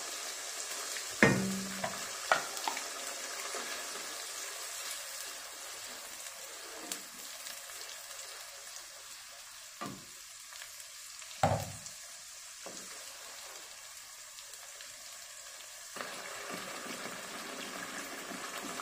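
Egg pepper green masala curry frying in a pan gives a soft, continuous sizzle broken by several sharp spatula clacks and scraping stirs, close and fairly quiet with no one speaking.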